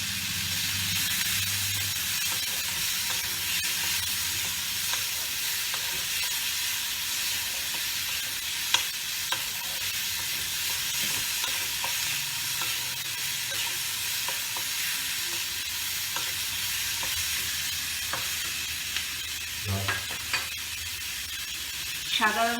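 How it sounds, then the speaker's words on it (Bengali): Chopped garlic and ginger paste sizzle steadily in a hot pan for a katla fish curry, a continuous bright hiss with faint scraping from stirring and a few small clinks, no voices. "এইবার আমি দেব রসুন কুচি আর আদা বাটা।"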